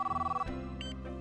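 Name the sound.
telephone ringing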